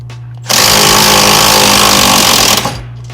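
An impact wrench drives out the outer part of a VW Jetta wheel bearing in one loud, continuous two-second burst of harsh hammering rattle, close by, then winds down into quiet.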